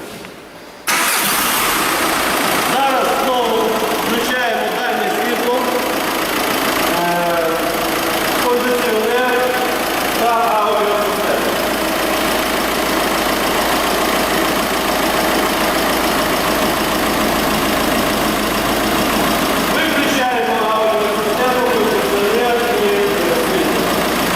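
A car engine cranks and catches, then settles into a steady idle with voices talking over it now and then, during an engine compression test with a motor tester.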